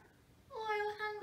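A cat gives a drawn-out, grumbling meow, fairly close and moderately loud, starting after a brief quiet pause.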